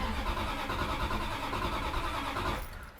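A car engine in a rural woodland setting cranks and fires after a splash of gas is added, giving a loud, dense, steady roar that drops off sharply near the end.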